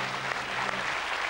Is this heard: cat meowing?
no